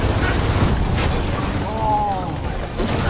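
A grenade explosion in the video game Gears of War 4, a heavy booming blast with rumbling low end that rolls and fades over a few seconds, loud and near, with game voices talking around it.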